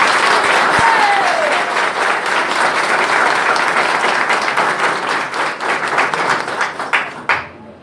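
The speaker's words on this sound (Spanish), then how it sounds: "Quiero un fuerte aplauso" Loud, sustained audience applause at an ambulance handover ceremony in Río San Juan, a thick wash of many hands clapping that thins into scattered claps near the end before stopping.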